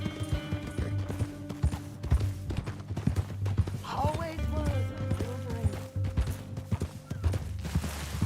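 A horse's hooves clip-clop at a steady walking rhythm in the Red Dead Redemption 2 game, close and continuous beneath a man's spoken lines, with a brief whinny partway through.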